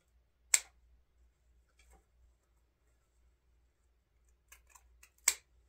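Scissors make two sharp, isolated snips a few seconds apart, trimming the tails of a deco mesh bow on a greenery wreath, with faint rustling between cuts in an otherwise quiet room.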